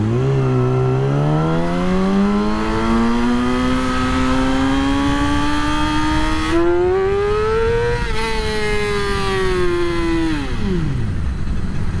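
Motorcycle engine revving hard through a wheelie, loud and close, its pitch climbing steadily across several gears before dropping away sharply at the end.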